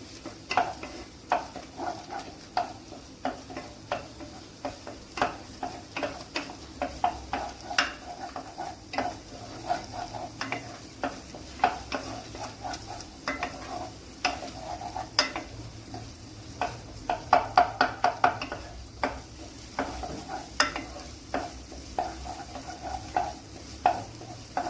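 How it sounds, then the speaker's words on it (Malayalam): Ginger garlic paste frying with onions in a pan for a Tamil Nadu style pepper chicken gravy, with steady sizzling and repeated stirring scrapes and spoon clinks against the pan throughout, no talking. "ഈ സമയത്ത് നമ്മൾ ഇഞ്ചി വെളുത്തുള്ളി പേസ്റ്റ് ഇട്ട് കൊടുക്കാം."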